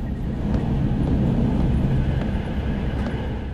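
Steady low rumble of a train rolling along inside the video game Reveil, a continuous dense drone with faint metallic clatter, loud and unbroken throughout.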